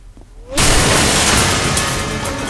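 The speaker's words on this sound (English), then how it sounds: "And now we got a lot of bang on that blast." An explosion blast sound effect erupts suddenly after a brief quiet lead-in, a loud broad roaring burst that sustains and slowly fades while staying dense and rumbling.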